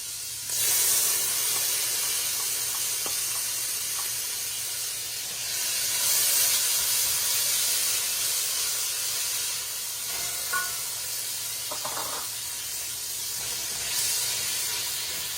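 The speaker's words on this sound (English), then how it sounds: "Now you're gonna add your sofrito" Sofrito sizzling in a pan of grease rendered from ham for a Puerto Rican dish, a steady close hiss with a few faint clinks running throughout.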